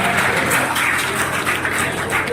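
An audience at a Bairagi community gathering claps continuously and loudly, a dense, sustained wash of many hands close by.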